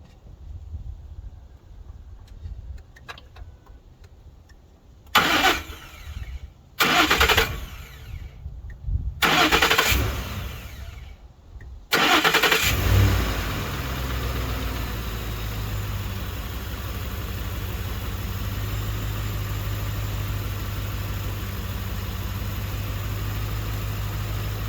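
A Ford F-150 engine right after an oil change cranks in several short bursts, catches, and settles into a steady low idle that runs on evenly and fairly loud, with no voices.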